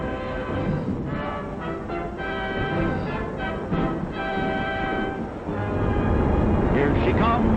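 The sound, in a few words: Yankee Clipper passenger train arriving at Grand Central Terminal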